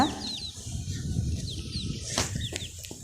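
Several chickens chirping and clucking, with high peeping calls from small chicks and a brief flutter of wings, outdoors at close range.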